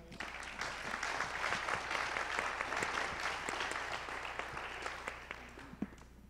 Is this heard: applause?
yes